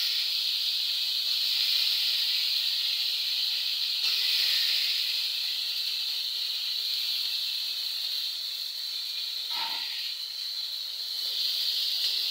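Potato, eggplant and drumstick pieces sizzle in a wok for a fish curry, a steady close hiss that holds evenly throughout, with one brief clink partway through and no speech.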